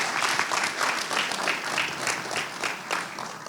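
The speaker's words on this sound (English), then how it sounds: "So please give them a warm, really nice applaud" At a 20th anniversary event for African Community Economic Development of New England, the audience gives the organisers steady, warm applause, a dense crowd clapping evenly throughout.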